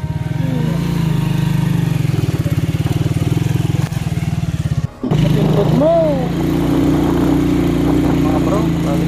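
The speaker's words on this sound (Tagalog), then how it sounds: "may kasalubong kami na isang motor din na pababa" Motorcycle engine on a muddy downhill road, a close, steady chugging drone that dips briefly midway and resumes, with faint background sounds over it.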